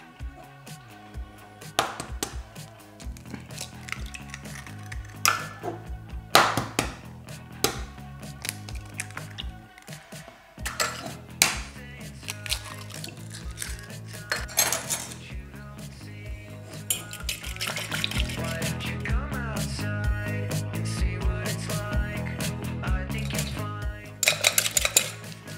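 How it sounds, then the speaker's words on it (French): Grated vegetables being mixed with other ingredients in a bowl, heard as a string of close clinks, taps and knocks of a utensil against the bowl, irregular at first and becoming denser and more continuous in the second half. "je vais mélanger le reste des ingrédients"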